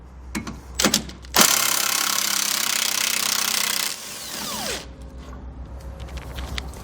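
A wrench works an 18mm tow hook bolt and nut on a 2015 GMC Sierra, with a few sharp metallic clicks and then a sustained loud grinding rattle lasting a few seconds, followed by scattered lighter taps.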